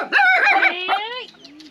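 A chicken in rural Laos clucks loudly and close by, a quick run of harsh, rising squawks ending in a drawn-out call, with no other sound around it.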